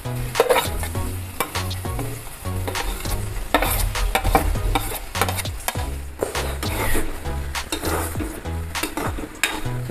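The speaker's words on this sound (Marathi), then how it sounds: "गॅस थोडा मोठा करून आपण कांदा लाल होईपर्यंत भाजायचा आहे" Onion pieces sizzle steadily in hot oil over a raised gas flame, with repeated scraping and stirring taps from a utensil against the pan running through the whole stretch; no one speaks.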